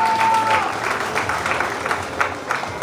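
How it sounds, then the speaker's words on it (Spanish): Applause for a woman named Ilse at the opening of a painting exhibition, a mid-sized crowd clapping steadily for about three seconds, fairly close, with a brief tone near the start and faint voices underneath. "aplauso para Ilse."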